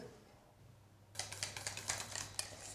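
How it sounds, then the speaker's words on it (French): Eggs beaten by hand in a bowl for an orange tartlet filling, a quick series of light rhythmic clinks and taps of a utensil against the bowl, close and fairly quiet, starting after a second of near silence. "Je les bats en omelette."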